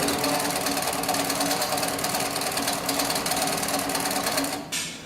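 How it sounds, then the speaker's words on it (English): A long-arm sewing machine driven by a variable speed servo motor sews tent fabric with a fast, steady mechanical rattle before stopping abruptly at the end. "I'm going to go ahead and continue sewing down the piece here."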